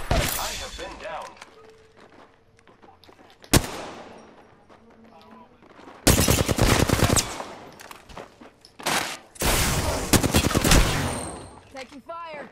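Video game gunfire in loud bursts: a single sharp shot early, then long sustained automatic-weapon volleys in the second half, with quieter stretches between.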